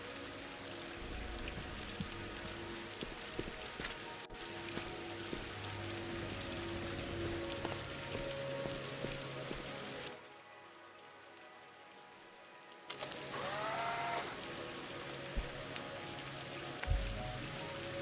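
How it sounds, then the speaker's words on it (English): Rain falls in the puzzle video game Viewfinder, a steady soft patter with ambient music underneath, then a brief hush before the downpour returns with a bright chime. "I like that you get that little brief moment of the raindrops falling sideways"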